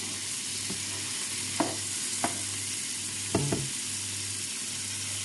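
Pork cheek fries in a pan with a soft, steady sizzle, broken by a few light clicks and scrapes of stirring, close by with no voices.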